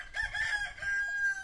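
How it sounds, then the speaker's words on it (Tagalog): A rooster crows one loud, drawn-out call that rises and trails off, heard close and clear with nothing else over it. "inano ko lang yung manok kasi malakas tumilaok"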